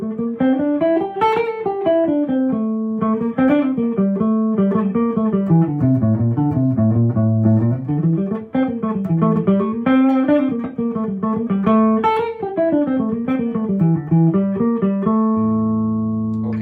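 An electric guitar plays a minor pentatonic scale with an added flat 2, running up and down in clear single notes at a steady pace, close and loud, ending on a sustained note.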